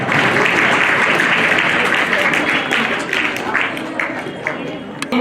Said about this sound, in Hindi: जोरदार तालियों से इसका स्वागत करें।